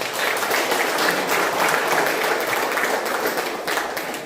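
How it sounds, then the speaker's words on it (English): An audience breaks into applause at a live-streamed cricket team event, a dense, steady wash of clapping from many hands that holds for the whole stretch before easing slightly at the end, with no speech over it. "Big round of applause for that."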